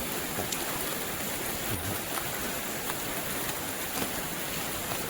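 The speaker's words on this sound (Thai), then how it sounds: "พอ่ะสภาพฝนตกนะครับ" Steady, dense heavy rain hisses continuously, a close and even wash of falling water with no voices.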